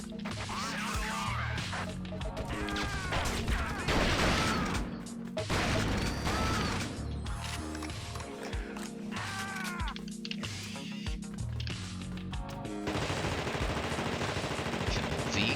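Rapid bursts of MP5 submachine gun fire and smashing barrels in The Thing video game, loud and dense with crashing impacts and game noise, no talk.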